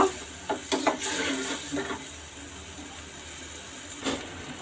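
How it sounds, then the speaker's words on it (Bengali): Spices fry and are stirred in a pan over a medium gas flame, a steady low sizzle broken by a few close clinks and scrapes of the spoon near the start and end, with no speech. "এখন সব মশলাগুলোকে আমি পাঁচ থেকে সাত মিনিট মিডিয়াম ফ্লেমে রেখে কষিয়ে নেব"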